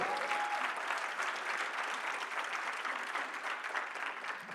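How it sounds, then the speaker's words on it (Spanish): A church gathering's audience breaks into steady, dense applause to welcome first-time visitors, sustained at an even level throughout with no voices over it. "¿Y qué tal si los recibimos con un fuerte aplauso?"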